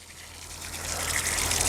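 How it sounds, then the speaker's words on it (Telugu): Water poured onto a rubber dairy-farm floor mat and draining through, a rushing gush that builds steadily louder. "ఇలా కింద నుంచి నీళ్ళు వెళ్ళిపోతుంది"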